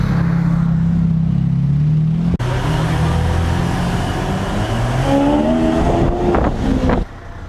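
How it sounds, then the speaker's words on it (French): A Bugatti Veyron supercar on the streets of Monaco, its engine droning loudly nearby, then a sudden shift in the roar and rising revs as it accelerates past, the sound cutting off sharply near the end. "Ah, de nouveau la Bugatti Veyron."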